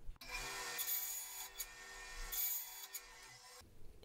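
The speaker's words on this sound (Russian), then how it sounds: "Далее снова следует прорезать, но теперь вдоль. Сделаем это опять же на пиле и вернемся." Saw cutting lengthwise through hard plastic bottle necks, a steady close rasping stroke lasting several seconds with brief surges in intensity before it stops abruptly.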